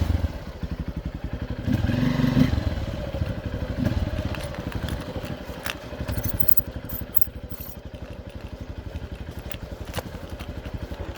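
A Honda XR150L motorcycle engine idles with its muffler baffle still fitted, giving a steady, close, rapid putter with faint clattering, fairly subdued throughout.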